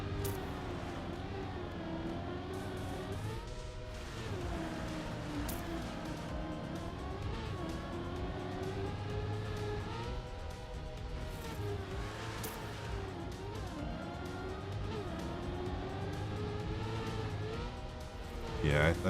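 A car engine droning steadily while driving in a video game, its pitch rising and falling with the throttle throughout, with voices talking over it.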